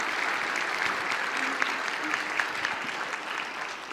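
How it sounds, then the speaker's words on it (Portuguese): Audience applause for an actress, a steady broad wash of clapping from a crowd that holds evenly for the whole stretch with a few sharper claps standing out. "Uma salva de palmas para essa atriz"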